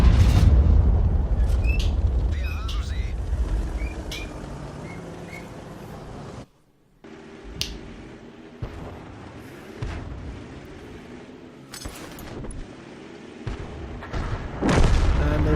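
Tank cannon fire and shell explosions in the World of Tanks video game, with a KV-2 and a Type 64 in the fight: heavy booms and sharp blasts over a constant low rumble of engines and battle noise.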